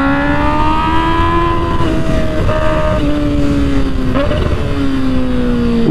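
A Kawasaki Ninja H2 motorcycle engine revs loud and close, its pitch climbing, then drops sharply around each downshift, steady and continuous with no talking.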